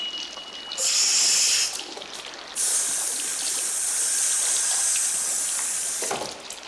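Water rushing in through a hole in a 1988 animated film about Noah's ark, loud hissing bursts of gushing flow, one short spray followed by a longer sustained surge that cuts off abruptly.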